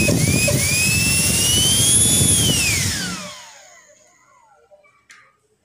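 A 64mm electric ducted fan jet runs with a loud, close, high-pitched whine and rushing air, holding steady for about three seconds before spooling down and fading to silence, followed by a few small clicks.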